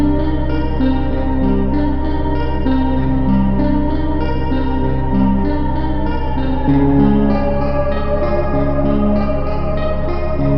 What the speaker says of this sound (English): see how it sounds with the new flute sound from the sample